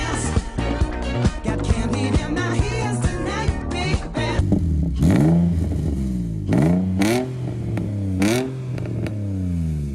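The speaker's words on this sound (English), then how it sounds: "we pushed it down the road, pop started it, and it started up" Nissan 350Z drift car with no starter, running after a push start, revs in rapid rising and falling bursts, loud and close, then settles into a few longer swooping revs.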